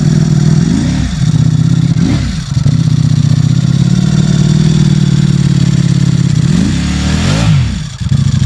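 Brand new Ducati Streetfighter V4 Lamborghini edition motorcycle engine running close by, a loud steady idle rumble broken by a few quick throttle blips that rise and drop back.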